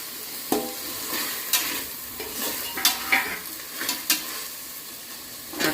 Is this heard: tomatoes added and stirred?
yes